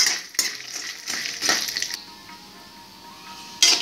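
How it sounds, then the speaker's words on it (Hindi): Small pieces of vadi (sun-dried lentil dumplings) frying in hot oil in a pan, a steady broadband sizzle with bursts of clatter and stirring, fairly close, with no talking. "इनको हम हल्का सा फ्राई करके निकाल देंगे"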